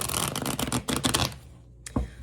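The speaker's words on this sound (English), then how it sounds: "I'm going to give it a couple more shuffles" A deck of tarot cards is shuffled in a quick, papery riffle that runs for about a second and a half, then a short pause and one more soft slap of cards, close and moderately loud.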